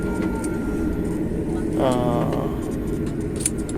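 A steady jet engine roar rumbles throughout as an airliner turns on the runway at Kannur Airport, while people talk over it nearby, with a brief rising whine midway.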